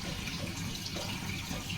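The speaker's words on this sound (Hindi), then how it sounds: "मैंने कुकर पे भर दिया पानी और ये ढक देती हूँ।" Water running steadily into a pressure cooker in a home kitchen, a continuous close splashing rush of liquid with no talk over it.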